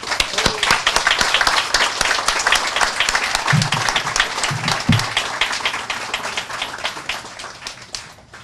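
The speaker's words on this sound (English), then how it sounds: "Let's give them a big round of applause." An audience at a Patriots Day ceremony applauds with dense, sustained clapping that stays loud for the whole stretch and tapers slightly at the end, with a few brief voices underneath.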